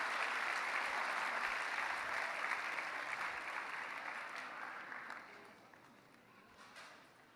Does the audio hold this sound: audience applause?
yes